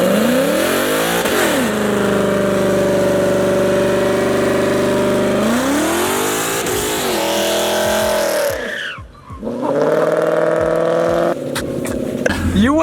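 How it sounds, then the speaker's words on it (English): A Nissan 370Z does a burnout, its engine revving hard and rising and falling in pitch while tires squeal and skid loudly, nearby, with a brief drop before it roars again; voices can be heard underneath. "he's gonna do a burnout for you"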